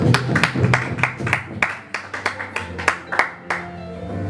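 A church congregation claps steadily in irregular rhythm during a French-language service, with a dozen or more sharp hand claps close by and a faint background hum.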